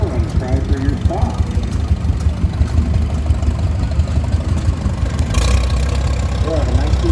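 A 1910 International Harvester Type C 20 horsepower tractor engine runs steadily with a low, throbbing idle rhythm, while people talk faintly over it.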